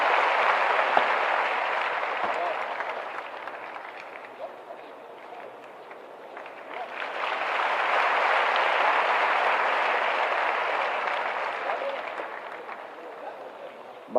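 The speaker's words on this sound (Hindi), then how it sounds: "तालियां बजाएं" Audience applause at a police appointment ceremony, a dense, steady clapping from a large crowd that eases a little midway and then swells again before fading.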